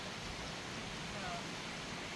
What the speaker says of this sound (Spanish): el agua puede sonar como un susurro, o como si alguien hubiera abierto una ducha gigante al máximo